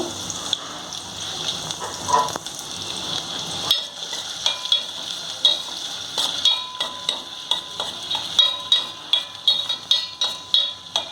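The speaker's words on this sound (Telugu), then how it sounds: "ఇవి ఉల్లిపాయలు ఇట్లా వేగాయి" Onions and green chillies frying in a pan for pesarattu upma, a soft sizzle with a string of light clinks and stirring taps that grow more frequent in the second half.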